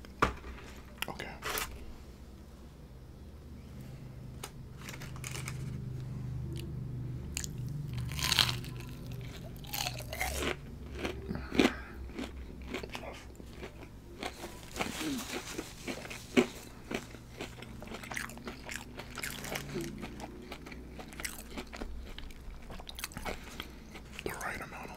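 Jumbo fried shrimp and fried calamari are bitten and chewed close to the mic, with repeated crisp crunches and wet chewing over a long stretch, broken by soft whispered talk.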